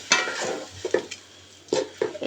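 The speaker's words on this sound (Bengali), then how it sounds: "আপনি ভালো করে পোলাও চালগুলো ভেজে নেবেন" Polao rice frying and being stirred in a pan, with close scraping strokes and soft sizzling that come in short irregular bursts with brief pauses.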